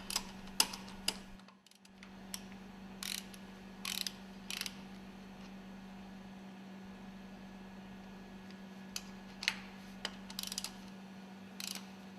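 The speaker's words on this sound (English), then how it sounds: "Mount and tighten the screws for the cooling jacket." Ratcheting clicks from screws being tightened onto the cooling jacket of a marine engine cylinder cover during overhaul, in scattered short bursts over a steady low mechanical hum.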